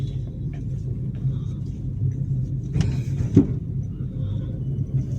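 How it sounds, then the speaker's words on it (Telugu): Car driven on the road by a driving school learner in Nalgonda, a steady low engine rumble heard from inside with a couple of brief clunks and a soft bump, no talk. "కస్టమర్ సింగిల్గా డ్రైవ్ చేస్తున్నారు."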